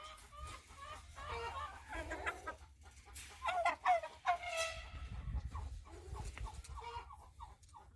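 Chickens and turkeys clucking and gobbling nearby in short, irregular bursts, with a low rumble of background noise underneath.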